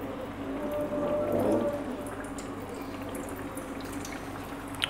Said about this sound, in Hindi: अब हम इसमें हैश ब्राउन रखेंगे फ्राई होने के लिए।